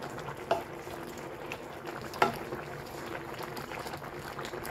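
Green chili dropped into a pan of simmering meat and jackfruit cooked with batuan, giving a soft, steady sizzle and bubbling with two brief stirring knocks, quiet and close.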